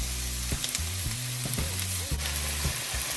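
Sliced onions sautéing with a pinch of salt in a pan, a soft, steady sizzle with occasional stirring clinks, close and fairly quiet, with no voices.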